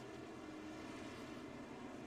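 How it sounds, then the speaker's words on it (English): A Huey helicopter flies over in the racing game iRacing, heard as a steady, dense engine-and-rotor drone that holds at an even, fairly faint level with no talk over it. "there's your helicopter."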